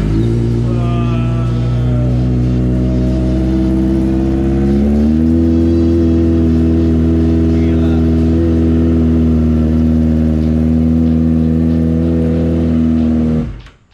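Kawasaki Ninja ZX-25R with an Akrapovic aftermarket exhaust firing up from cold, a loud steady drone that climbs in pitch around five seconds, holds a high fast idle, then cuts off abruptly at the end.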